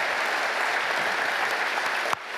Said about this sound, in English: We want to give you a massive round of applause.